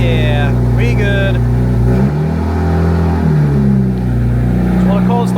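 Single-turbo BMW M3 engine on a cold start, a loud, deep steady idle close up that rises and dips slightly, with someone talking over it.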